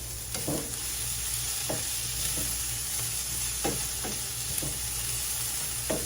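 Burger topping cooking in a pan, sizzling steadily while a utensil stirs and scrapes in repeated distinct strokes every half second or so, close and clear with no talk.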